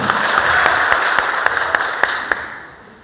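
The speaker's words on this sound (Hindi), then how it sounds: "एक बार जोरदार ताली होगा" Clapping from workers at a Safety Day program, a sustained patter that thins out, leaving a few distinct single claps ringing out one by one before it fades.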